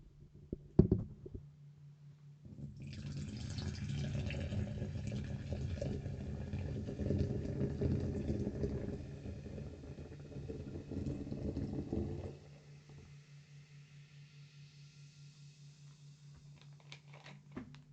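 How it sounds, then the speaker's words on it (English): Mountain Dew Game Fuel, Citrus Blackberry, is poured from a bottle with little carbonation. A continuous liquid pour with a light fizzing hiss lasts about ten seconds, close and fairly soft, after a brief clatter at the start. "Let's see how this is when I pour it."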